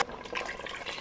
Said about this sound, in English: I'm gonna put in 2 cups of water.